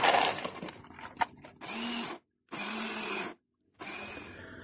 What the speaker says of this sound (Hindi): ताकि ये दोनों दालें एक साथ पीस जाएं।